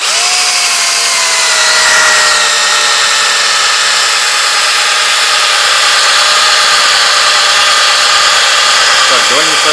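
A power drill runs continuously as holes are drilled in dishware, a loud steady whine with grinding noise close by, and people talk over it.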